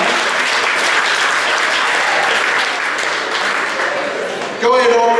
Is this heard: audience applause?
yes